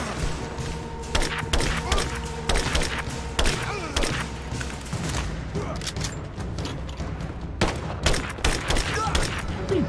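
Battle gunfire in Rise of the Tomb Raider: scattered sharp shots and thuds, some rapid bursts and some single cracks, at mixed distances over a steady game backdrop.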